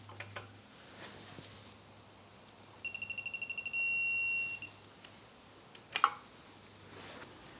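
A digital torque wrench gives a quick series of short electronic beeps followed by one longer sustained tone, clear against a quiet background, then a brief clatter, while torquing a Mazda Miata wheel.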